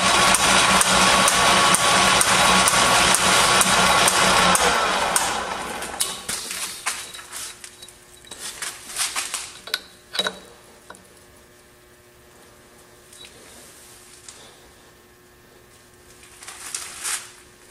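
A metal lathe takes a light finishing cut with a negative-rake tool. It gives a loud, steady hiss and whir for about five seconds, then stops, leaving scattered clicks and taps.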